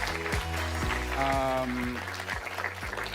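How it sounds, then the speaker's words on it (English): Audience applause at a matcha-making showdown event, a dense wash of clapping filling the room with voices and tones ringing through it. "let's have a last round of applause here for our fantastic matcha makers and our audience"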